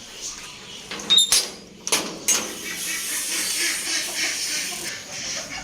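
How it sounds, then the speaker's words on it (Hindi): A room door in a home is opened, giving a few sharp scraping and knocking bursts followed by a lighter rattle, close by, then a steady low hiss of room noise. "ये दरवाज़ा खोलते हैं, वो बच्चे खुद ब खुद बाहर आ जाएंगे।"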